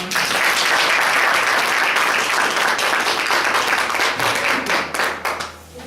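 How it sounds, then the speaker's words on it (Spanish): Warm applause from the audience at a gathering on shamanic healing as the speaker Jordi is introduced. Many hands clap loudly and steadily for about five seconds, then the applause fades out. "Un aplauso, por favor."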